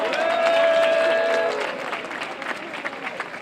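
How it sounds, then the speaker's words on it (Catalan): A rally crowd at an outdoor demonstration in Alicante applauds and cheers, loud at first with voices over the clapping, then thinning into scattered claps. "demano un aplaudiment per a la televisió pública que tenim"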